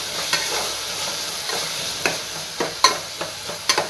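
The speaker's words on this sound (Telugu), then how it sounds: "ఇవన్నీ వేసిన తర్వాత కొంచెం బాగా కలపండి." Ginger-garlic paste is stirred into vegetables frying for a vegetable biryani: a close sizzle runs underneath while a spatula clicks and scrapes against the pan in quick, uneven strokes.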